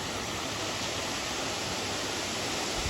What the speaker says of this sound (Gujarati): પાણીનો ધોધ પડી રહ્યો છે.